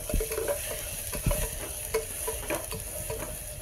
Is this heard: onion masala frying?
yes